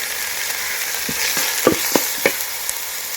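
Tomatoes and a sprig of curry leaves hit hot oil with ginger paste while sautéing for a spicy mutton curry, giving a steady soft sizzle broken by a few sharp crackles and pops as the pieces land and are stirred.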